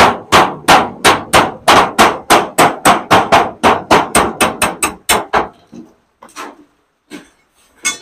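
A hammer pounds steadily during roof building work, about fifteen loud, close, evenly spaced blows in quick succession, then a few scattered lighter taps and knocks after a pause.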